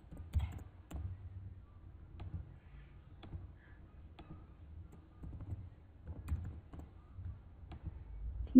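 Keys clatter in irregular bursts as code is typed on a computer keyboard, a quiet, close run of light clicks and taps with short pauses between flurries and no talking.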